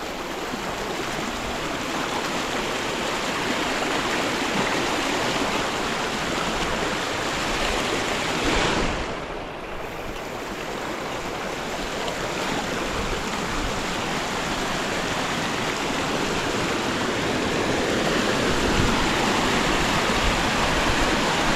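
Steady rushing river water flows loudly and continuously after a typhoon, a broad close whoosh with a brief dip midway.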